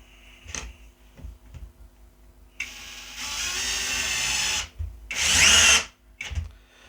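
A Worx WX177.9 brushless switch driver drills into softwood with two loud whirring bursts that cut off abruptly, among quieter clicks and handling taps.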